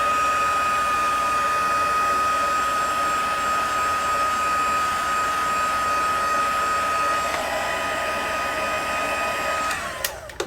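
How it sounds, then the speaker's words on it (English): A heat gun blows a steady, loud, even whoosh with a faint high whine. It runs without a break while drying craft baubles, then cuts off at the end. "so take my heat gun again. Give these a quick dry."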